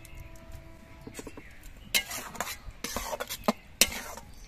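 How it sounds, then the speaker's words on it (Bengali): Raw tomato curry with mustard-poppy paste and sugar is stirred in a pan, a few sharp spoon scrapes and knocks over a faint low simmer, quiet between strokes. "চিনি দিয়েও বেশ ভালো করে নেড়ে চেড়ে মিশিয়ে নিতে হবে"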